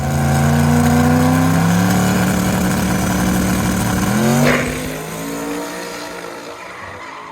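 A twin-turbo car on a test run accelerates hard in a loud, rising engine roar that climbs through the gears. It then drops to a lower drone as the throttle eases, with no talking.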